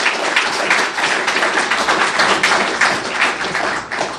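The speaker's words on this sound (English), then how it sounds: "Real quick round of applause here." Audience at a tech talk on enterprise passwords applauding after the presentation, dense, sustained clapping from many hands, fairly loud and even throughout.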